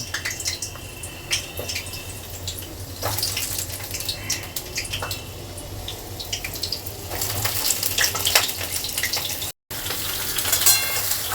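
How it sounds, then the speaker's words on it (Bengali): Pointed gourd (potol) frying in hot oil in a kadai over a medium gas flame, a steady low sizzle with faint clinks and drips that swells louder toward the end, with no talking. "গ্যাসের ফ্লেমটা মিডিয়ামে রেখে পটলগুলোকে ভেজে নেব"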